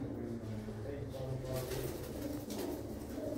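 Pigeons coo softly in a spacious loft, low murmuring calls running steadily under a faint background hum, with a voice speaking nearby.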